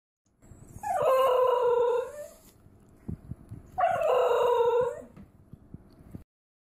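Two long, wavering yodel-like howls from a basenji dog, each about one and a half seconds, separated by a short pause with faint clicks between.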